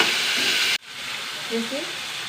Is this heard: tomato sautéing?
yes